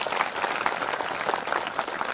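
An audience at a religious satsang gathering claps in unison, a dense, loud, continuous patter of many hands close by, with no pauses throughout.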